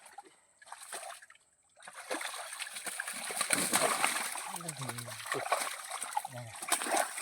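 Snakehead fish splash and splatter irregularly in shallow water in a dammed canal, with gentle trickling, while a person talks over it.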